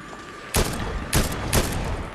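Three sharp gunshots ring out in a Fortnite-style battle royale fight, spaced about half a second apart, loud and close against a quiet background.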